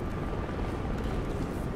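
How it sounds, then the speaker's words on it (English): Helicopter in a first-person shooter game, a steady loud broadband rotor and engine drone holding constant throughout, no speech. "Chopper inbound."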